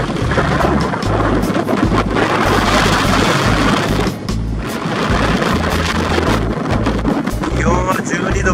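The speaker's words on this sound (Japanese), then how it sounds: "風はピュンピュン正面から、" A powerful onshore wind blows head-on at a beach, giving heavy, sustained rumbling buffets that pound the microphone loudly throughout, with a brief lull midway and a faint wash of surf beneath.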